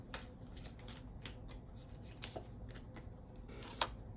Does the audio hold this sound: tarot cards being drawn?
yes